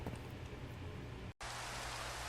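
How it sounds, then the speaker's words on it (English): Steady rain falls in the Minecraft world as an unbroken hiss, loud and close, with one brief cutout partway through before the downpour resumes. "And it's raining outside."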